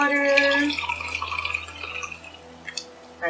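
Tap water runs and drips into a glass being topped up with juice for a drink at home, with soft splashes and trickles through the first half before the flow tapers off.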